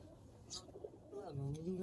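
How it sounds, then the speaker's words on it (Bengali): A male pigeon coos nearby in a low, throaty rolling call that swells near the end, with a voice talking over it. "এটা নর কবুতর"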